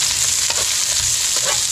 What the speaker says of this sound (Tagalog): Nagpainit na po ako ng kaunting mantika. Lalagay na natin itong magigisa na tayo ng bawang,